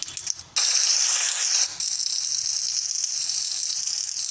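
Rain falling sound effect, a dense hissing patter that jumps in loudly after a brief softer start, then continues steadily and evenly with no voices.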